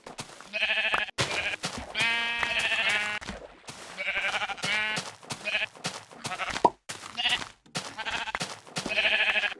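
Sheep in Minecraft bleat repeatedly in short, bright, slightly synthetic calls, several overlapping at a steady pace with brief gaps between them.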